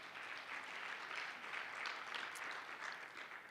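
An audience at an Indigenous Knowledge technology innovation investment summit applauds, a steady wash of many hands clapping that holds at an even level throughout, somewhat distant.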